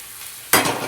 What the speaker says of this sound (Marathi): चला आता आपला कांदा छान मी असा नरम होऊ देते आणि दाखवते.